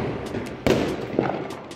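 Diwali firecrackers go off outdoors at night, two sharp cracking bangs about half a second apart over a steady background of distant popping and crackling.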